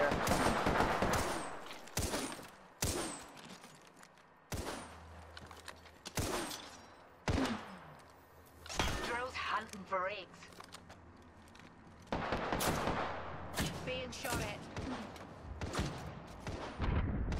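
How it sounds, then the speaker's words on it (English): Repeated bursts of gunfire from an Apex Legends firefight, loud sharp volleys and fusillades scattered through the stretch with short gaps between them, while a player's voice talks over the shooting. "Being shot at."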